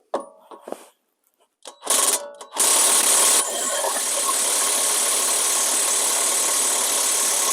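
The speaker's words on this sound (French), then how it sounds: "un petit coup de clé à choc" Impact wrench working a 21 mm nut loose on a Saab 9-3 during rear suspension arm replacement: a few short clattering bursts, then a loud sustained whirring hammer that eases slightly and runs steadily to the end, close by.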